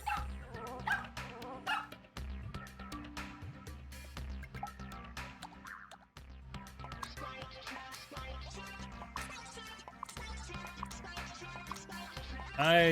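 Playful dog barks and yips in Super Mario Maker 2 blend with lively game music, the short barks popping up at irregular intervals over a bouncy rhythmic backing track with a brief pause midway.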